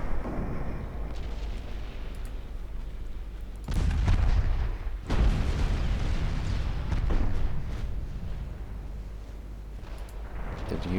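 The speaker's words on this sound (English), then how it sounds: "land some big battleship shells on this this heavy cruiser" Big battleship guns boom and shells strike a heavy cruiser in the naval warfare game Ultimate Admiral Dreadnoughts: loud, deep blasts stacked over a constant rumbling din of battle, with no one speaking.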